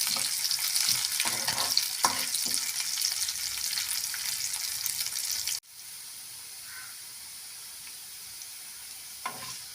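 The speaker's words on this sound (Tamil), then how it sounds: "நல்லா வதக்கி விட்டுக்கோங்க." Onions and curry leaves sauté in a pan, a steady loud sizzle with scattered stirring scrapes that cuts off sharply midway, leaving a quieter hiss with a final light clink.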